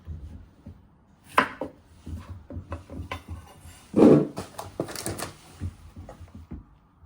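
Courgette ends being chopped with a knife on a board, several distinct sharp chops at irregular intervals, close and fairly loud with quiet gaps between.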